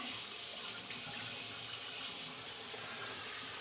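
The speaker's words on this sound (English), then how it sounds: "Sorry, I'm just gonna rinse." A razor, a Weck Sextoblade, is rinsed under a running bathroom tap, giving a steady, close hiss of flowing water that continues without a break for a few seconds.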